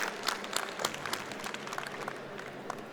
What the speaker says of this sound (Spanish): un fuerte aplauso para nuestros panelistas hoy día